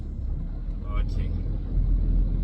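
A truck approaching on a road during a long-haul route between Wesselbron and the Kopfontein border, its low engine rumble building under a man's speech and swelling toward the end.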